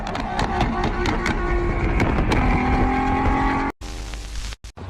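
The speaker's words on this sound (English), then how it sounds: "This guy really wanted to show off his exhaust." A car's loud exhaust roars continuously close by with a steady rumbling drone and revving, then cuts out abruptly near the end in a couple of sharp gaps.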